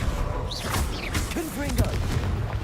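A Confringo blasting spell goes off in Hogwarts Legacy gameplay, a booming burst of spell fire and impacts layered over busy game effects and music, loud and dense throughout.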